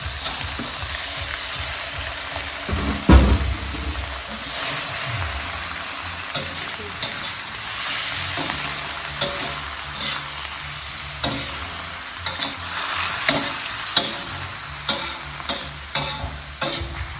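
Shrimp stir-fried with holy basil and garlic in a hot pan, a steady sizzle with repeated scraping stirs and clanks of the utensil, while someone talks over the cooking.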